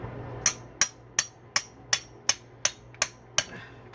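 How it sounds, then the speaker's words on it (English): Nine sharp metallic hammer blows ring out at an even, steady pace while preparing a pig for roasting, each one close and loud with a brief ringing decay. "And then again, just give it a hammer."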